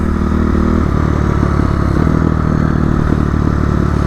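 A dirt bike engine runs steadily throughout while being ridden, a loud, continuous motor drone with rattling clatter on top and no talking.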